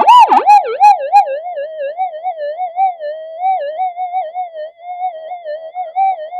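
Homemade high-gain gold metal detector emitting a loud, continuous warbling tone that wobbles up and down in pitch, burbling unevenly throughout with a few sharp crackles at the start.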